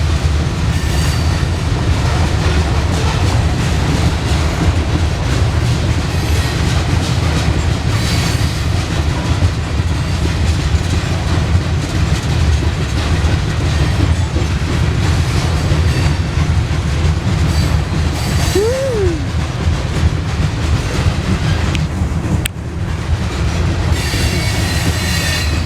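A Norfolk Southern eastbound grain train rolls past in Berea, Ohio, a loud, continuous rumble of freight cars with rhythmic wheel clatter and a brief squeal of wheels on rail.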